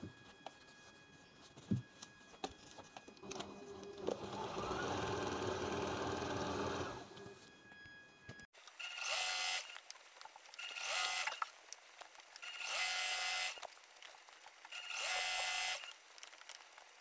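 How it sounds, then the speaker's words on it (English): Sewing machine stitching a turban cap, running in several steady bursts separated by short pauses, fairly close and clear, with no talking. "Now I'm done sewing it, and this is how it look."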